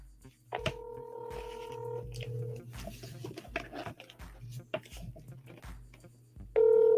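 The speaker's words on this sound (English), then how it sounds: "So let's give him a quick call." A phone on speakerphone dials out, its keypad tones beeping in a quick series over a low steady hum, and a second tone cuts in at the end. A voice speaks intermittently in between.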